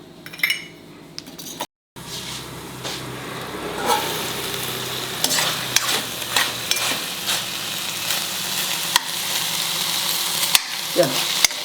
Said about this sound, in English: Now allow it to cook for 3 minutes.